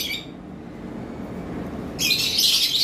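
A lutino JP red-eye Japanese budgerigar gives bright, high chirping chatter in a short burst, then falls quiet, then chirps again more steadily. It sounds close, over faint room hum, with no talk.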